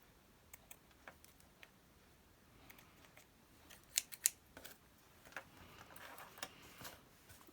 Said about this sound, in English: I'm just going to cut these off at an angle so it doesn't look quite so blunt.